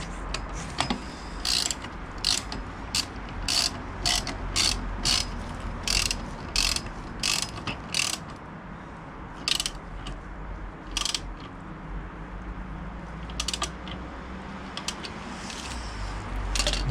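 Ratcheting clicks of a wrench tightening a bolt on a Booster scooter during a variator and roller change, rapid bursts of sharp ticks repeating in short runs over a low steady background hum.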